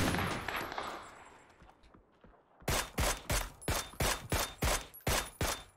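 Gunfire in the PUBG battle royale game on the Miramar desert map, a loud burst that fades out, then after a short silence a run of about ten sharp, evenly spaced shots, close and loud.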